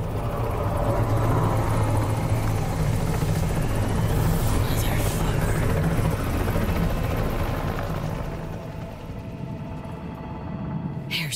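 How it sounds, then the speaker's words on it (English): A helicopter in the Cyberpunk 2077 video game roars overhead with a heavy, continuous rotor rumble that is loud and close throughout, fading slightly near the end, with voices talking over it. "if that chopper gets a lock on us, we'll be as good as dead"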